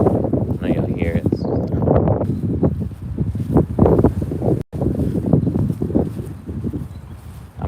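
Strong northeast wind blowing outdoors beside a backyard pond in North Carolina, a loud continuous roar buffeting the microphone with gusty rumbles and rustling; someone talks over it at times.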